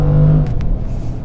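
A 2022 Jaguar F-PACE SVR engine roars and climbs in pitch briefly, a deep close-up rumble from inside the vehicle.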